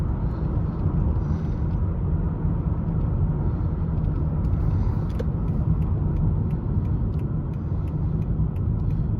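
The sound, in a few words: 2010 Lexus ES350 driving, engine and road noise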